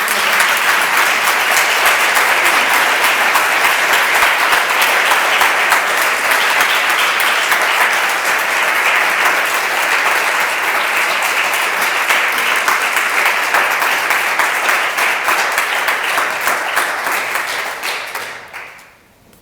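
Audience at an event applauding, dense steady clapping that stays loud and even for a long stretch, then quickly fades out at the end.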